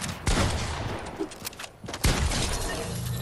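Gunfire in a Fortnite match, several bursts of rapid shots and sharp cracks with a brief lull between them, close and loud.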